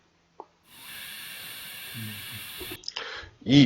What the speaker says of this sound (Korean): 휘 올라오는 소리가 누수음이에요.